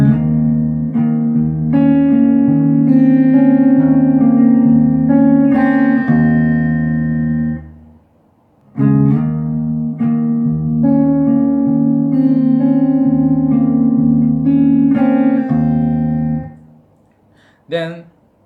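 A slide guitar plays the intro bar of a song in two close, clear phrases of picked and strummed notes, with sustained low strings and a short pause between them, ending in a brief final pluck.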